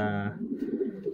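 A pigeon coos nearby in a short rolling run of soft, low throaty notes, heard alone.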